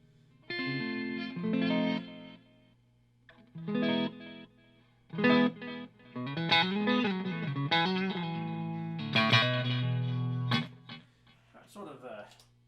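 Electric guitar played through a stereo univibe effect with a Strymon delay panned to one side produces phrases of warbling, swirling chords and notes with gaps between them and lingering repeats.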